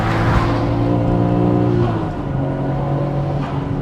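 A Nissan GT-R NISMO 400R with its 2.8-litre engine revving hard while driven, a loud in-cabin drone climbing through the revs, then easing into a lower steady note.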